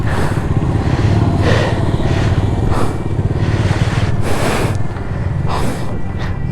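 A Bajaj Dominar motorcycle engine at a Sunday riders' meetup in Bihar runs with a steady, loud, continuous rumble, mixed with gusts of wind across the microphone and no talking.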